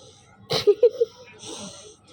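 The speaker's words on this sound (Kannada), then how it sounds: "ನನ್ನ ಮಗಳು ಗೊರಕೆ ಹೊಡಿತಾವಳೆ" Young girl snoring, one short wheezy snort followed by a few quick nasal catches, close and quiet in a calm room.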